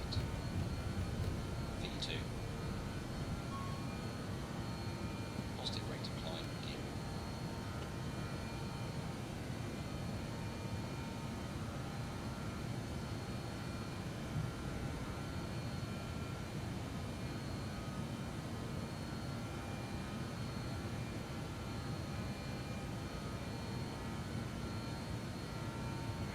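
A King Air turboprop takes off in a flight simulator, a steady, even engine drone holding at a moderate level throughout with a couple of faint tonal blips over it.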